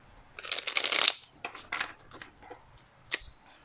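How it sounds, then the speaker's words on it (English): A deck of tarot cards being shuffled by hand, a loud riffling burst followed by several shorter, softer shuffles close by. "One last shuffle, and then we'll get"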